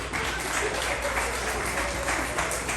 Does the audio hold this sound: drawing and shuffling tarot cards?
no